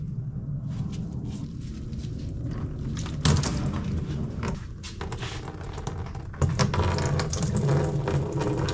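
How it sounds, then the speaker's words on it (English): Coolant drains from a Subaru WRX radiator with the plug removed, a steady trickling and splashing of liquid that grows louder twice as the flow increases, with faint mechanical clicks and no talking. "I'm going to remove this plug and let the rest of the coolant drain."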